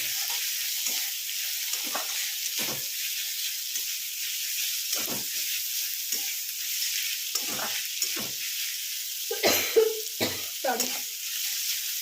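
Prawns frying in mustard oil in a pan for mixed fried rice, a steady bright sizzle broken by repeated scraping stirs, close by, with no voices.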